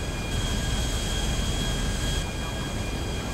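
Steady roaring jet engine drone from a damaged, smoking aircraft in Grand Theft Auto 5, a broad continuous wash of noise holding loud and even throughout with a faint high whine on top.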